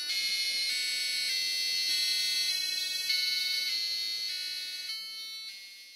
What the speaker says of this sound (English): the device should start playing the well-known happy birthday melody